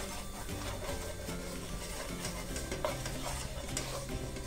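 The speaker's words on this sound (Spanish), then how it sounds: "Le voy a agregar la cucharillita de harina vamos a mover." Potatoes with pepper, colouring and a spoonful of flour being stirred in a hot pan, a continuous sizzle with steady scraping strokes of the utensil, close and even in loudness without talk.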